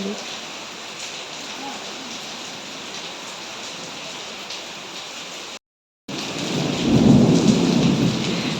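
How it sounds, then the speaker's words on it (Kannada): Heavy rain pours down in a dense, steady roar, briefly cut off, then returning louder with a deep rumble. "ಎಷ್ಟು ಜೋರು ಮಳೆ ಐತೆ ನೋಡ್ರಿ"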